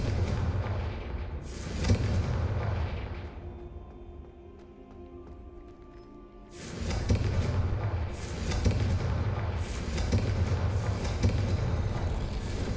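Confringo spell explosions in the Hogwarts Legacy video game: loud, rumbling booming blasts come in repeated bursts, separated by a quieter stretch with faint ringing tones.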